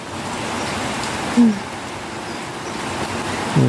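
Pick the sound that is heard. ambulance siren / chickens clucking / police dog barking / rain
rain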